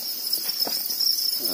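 Crickets in a breeding tray give a steady, high continuous chirring trill, close and fairly loud, with faint handling noise underneath.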